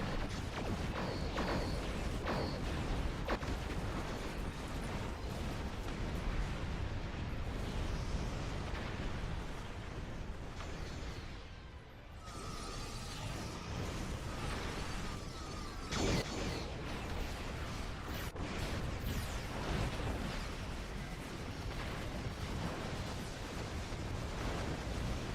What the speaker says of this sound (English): Oh, that's a lot of battleships. And this is a lot of torpedoes.